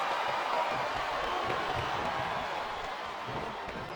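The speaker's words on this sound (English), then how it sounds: "I think this crowd's giving these superstars a piece of their minds, King." Crowd in a WWE SmackDown wrestling video game, a cruiserweight championship match between Chavo Guerrero and Gregory Helms, roaring steadily in a dense, continuous wash of arena noise without a break.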